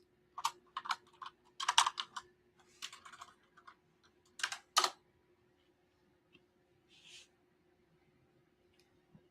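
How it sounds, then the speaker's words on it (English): Quick bursts of typing on a computer keyboard, clustered clicky keystrokes in the first few seconds, then sparse taps with quiet pauses, close and clear without talk. "Here, let me type it in."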